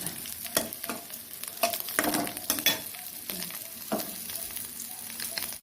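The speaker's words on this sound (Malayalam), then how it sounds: "മീൻ വറുത്തെടുത്തു" Fish frying in a pan, a steady, close sizzle with crackles and occasional sharper pops and spatters running throughout, with no talk over it.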